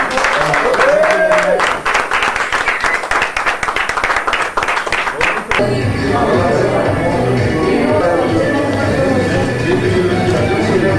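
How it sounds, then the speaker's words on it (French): Studio audience at a radio station launch broadcast claps in a lively, rhythmic burst for about five seconds, then the sound settles into a softer crowd murmur and room noise. "Tout le monde est là, on va applaudir Stéphanie"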